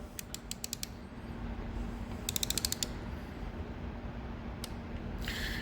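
A torque wrench clicks while tightening, with three close bursts of rapid ratcheting clicks spaced through the clip and a brief scrape at the end, all quiet and heard alone over a low hum.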